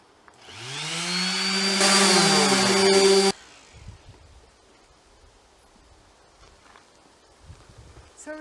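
A power sander runs loud on an old painted antique window frame for about three seconds, its whine rising as it spins up, then cuts off, leaving faint scraping and handling noises.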